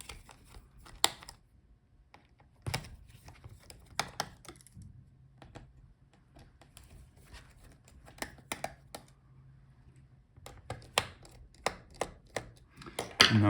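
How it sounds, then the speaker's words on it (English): Small screws being loosened from the heatsink of a Dell Precision 5480 laptop, a scatter of sharp little clicks and ticks from the screwdriver, close and intermittent over a quiet background with no talk. "Unscrew all the screws."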